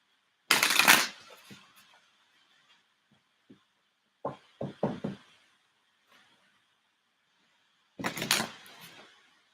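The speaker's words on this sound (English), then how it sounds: "Let's pull an oracle card. One more shuffle." Tarot and oracle cards are shuffled by hand in a quiet room, with a loud riffle at the start, a run of short flicking taps in the middle and another riffle near the end.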